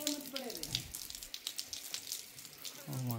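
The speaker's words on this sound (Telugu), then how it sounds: "మా అక్క అయితే వాటర్ వేస్తుంది" Water poured from a tap or hose onto potted plants during a festival day, a steady splashing and trickling stream running throughout, close and moderately loud with occasional voices briefly over it.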